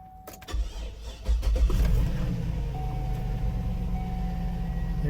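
A GMC Yukon Denali engine cranks with a few clicks, catches and rises into a steady, smooth idle heard up close, with a faint whine running underneath.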